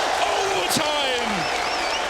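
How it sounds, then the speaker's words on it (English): A large arena crowd roars steadily at the IEM Katowice 2016 Counter-Strike grand final between Fnatic and Luminosity on Overpass, heading into overtime. The broad wash of noise holds throughout with a few whistle-like tones rising above it. "when the crowd goes wild, starts that roar"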